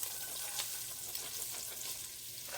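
Chopped onions sizzle as they fry in hot oil for a shrimp soup, a steady close crackle with faint stirring scrapes and no voices.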